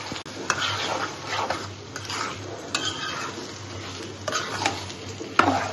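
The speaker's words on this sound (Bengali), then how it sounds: "এই যে আমি ভর্তাটা সুন্দর করে পেঁয়াজের সাথে মিক্স করতেছি" Mashed bhorta being stirred and mixed with onions, a soft, steady scraping and stirring in a bowl or pan with occasional sharp utensil clicks, close and moderate, with no talking.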